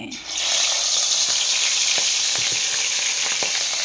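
Fish frying in hot oil gives a loud, close, continuous sizzle that flares up sharply at the start and then holds steady, with faint crackles and pops running through it.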